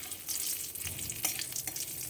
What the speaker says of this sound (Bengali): শুকনো লঙ্কা, তেজপাতা ফোড়ন হিসেবে দিলাম।